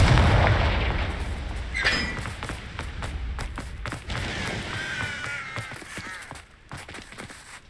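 Confringo fire spell blasting in the video game Hogwarts Legacy, a heavy boom at the start followed by crackling, fizzing debris and several sharp impacts fading over several seconds, with no speech.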